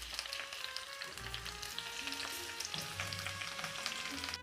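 Okra frying in oil in a pan for Indian-style okra curry, a dense, steady sizzle and crackle that stays close and continuous throughout.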